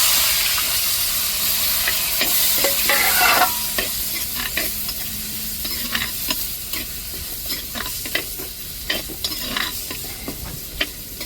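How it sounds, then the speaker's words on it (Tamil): Stone-ground garlic and onions sautéing together in a pan for an eggplant curry, loud steady sizzling with repeated scraping stirs and occasional bursts of steam. "இப்போ நம்ம அம்மியில் அரைச்சி எடுத்த பூண்டையும் அப்படியே வெங்காயத்தோடு சேர்த்து வதக்கிடுவோம்."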